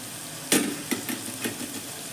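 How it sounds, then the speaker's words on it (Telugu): Bottle gourd curry stirred in a pan, with three or four separate scraping, sizzling strokes close by over a quiet background and no talking. "అన్నీ కలిసేలాగా ఇలాగా కలగలుపుకోవాలండి, కలుపుకోవాలి"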